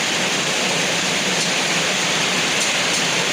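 Dense, steady roar of heavy rain pouring down, loud and unbroken throughout.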